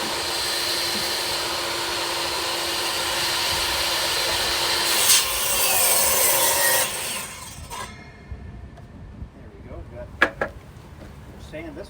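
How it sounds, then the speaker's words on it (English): Wood being sanded for a chair build: a loud, continuous whooshing rasp runs for about seven seconds, then stops, leaving scattered quieter knocks and handling sounds. "Sand this up."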